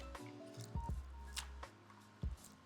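Homemade car soap being stirred into roughly three gallons of water in a bucket, with a few soft sloshes and splashes over a quiet background and no talking.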